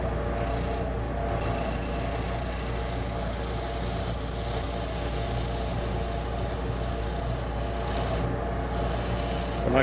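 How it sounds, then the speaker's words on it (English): Hand file working over wooden parts of a rubber band gun, truing up surfaces; a steady, continuous close rasping scrape with a constant low hum underneath, no talking. "I'll go in with a file and true up some of these areas"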